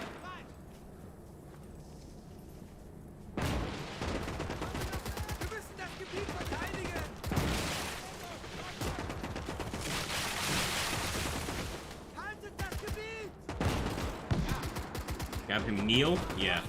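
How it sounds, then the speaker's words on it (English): Sniper and rifle gunfire in the WWII video game Gates of Hell Ostfront, with repeated sharp shots cracking over dense battle noise and continuous distant firing, loud and sustained throughout. "they must have some snipers because they're getting some pretty decent shots at range"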